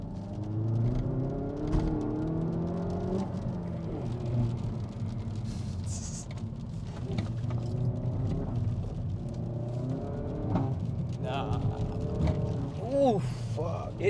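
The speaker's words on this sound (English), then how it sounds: "as you put it to sport, something in the back's working up is that exhaust." A Hyundai i30 N in sport mode gives a low, droning exhaust and engine rumble heard from inside the cabin, rising and falling with throttle, while people talk over it throughout.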